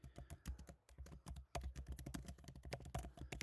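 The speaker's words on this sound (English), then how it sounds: "I am simply typing up what I am seeing up there." Rapid typing on a computer keyboard, with dense irregular key clicks and brief pauses, fairly close and quiet, with no talking.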